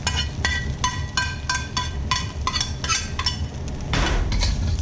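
Metal utensil scraping and clanking against a pan while Pad Thai ingredients are stirred, a steady run of close, bright clinks and scrapes with a louder rustling stir near the end.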